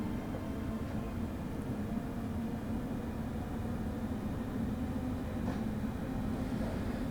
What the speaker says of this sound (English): These trains do accelerate very quickly.